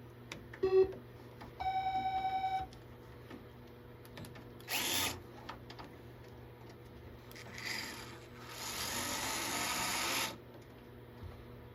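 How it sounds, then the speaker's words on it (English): Work on an arcade control panel during a Kangaroo to Dig Dug conversion, fitting a nut and screw in a tight spot: scattered clicks and handling noises, a few short bursts of power-tool whirring, and electronic beeps early on, with no talk. "I'll try to get this, hold this nut on and screw this in."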